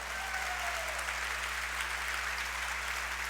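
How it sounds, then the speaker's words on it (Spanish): A church congregation applauds the Lord, a dense, steady wash of many hands clapping that holds evenly at a moderate level throughout, with no voices over it. "¿Cuánto le pueden dar un aplauso al Señor?"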